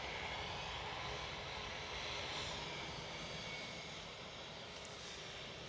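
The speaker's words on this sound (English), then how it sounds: "EasyJet in the Neo livery. 7852 to Amsterdam now. OE LSM A320 Neo." An EasyJet Airbus A320neo airliner at Manchester Airport gives a steady, broadband engine roar, loud and constant throughout with no voices.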